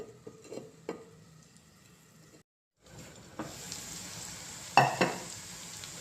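Sliced bitter gourd frying in a pan, a few light taps, a brief silence, then a steady sizzle with occasional utensil clatter, quiet and close.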